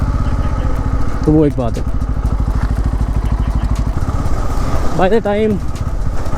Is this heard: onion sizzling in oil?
no